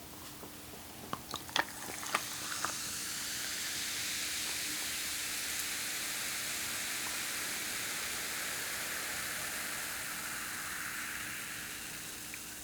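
Liquid poured steadily into a glass of ice cubes, a few sharp clinks of ice at the start giving way to a long, even fizzing hiss that fills the rest of the clip, close and moderately loud with no voices.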